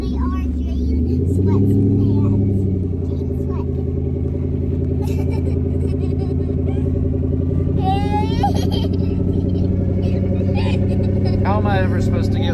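A twin-turbo small block Ford V8 idling with a deep, steady rumble and rising in a loud rev near the start, then holding a throaty drone while people talk over it.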